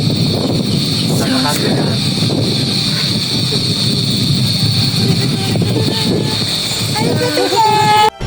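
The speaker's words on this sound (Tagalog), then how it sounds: "Sobrang lakas na hangin." Strong wind gusting across an open park, a loud constant roar buffeting the microphone throughout, with people talking underneath it.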